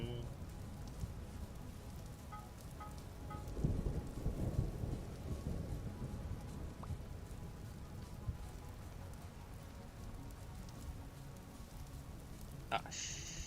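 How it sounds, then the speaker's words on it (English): A video game thunderstorm with lightning, a low rumble of thunder swelling partway through over continuous steady rain, with a brief sharp noise near the end. "Lightning."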